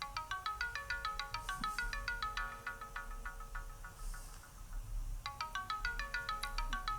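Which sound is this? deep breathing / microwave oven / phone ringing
phone ringing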